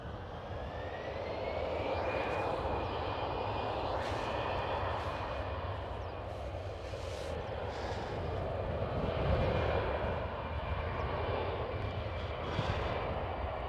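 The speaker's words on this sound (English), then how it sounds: "Lufthansa A320." A Lufthansa Airbus A320 at Amsterdam Schiphol gives off a steady, moderately distant jet-engine roar with a faint rising whine running through it, continuous for the whole stretch with no voices.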